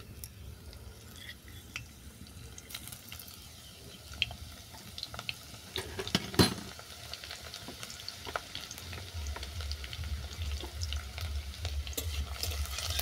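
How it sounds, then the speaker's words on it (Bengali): Chopped garlic fries in hot mustard oil in a kadai, a soft, continuous sizzle with faint crackles and an occasional stir, quiet throughout and growing fuller toward the end; no one speaks. "তেল গরম হয়ে যাওয়ার পর দিয়ে দিচ্ছি কুটে নেওয়া রসুন।"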